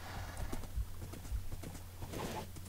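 Horses in a video game clip-clop with steady hoof beats against a soft ambient background, a few sharper thuds standing out, fairly quiet and without speech.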